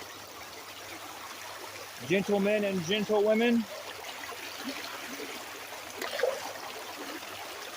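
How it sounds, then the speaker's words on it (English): Loud stream water rushing through a cave on a spelunking trip, a constant broad hiss and gurgle that stays strong from start to end, with someone speaking briefly over it. "I apologize for the water if it's super loud."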